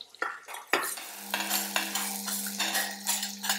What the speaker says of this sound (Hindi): आपको सिर्फ हाई फ्लेम पर 2 से 3 मिनट के लिए इसको भून लेना है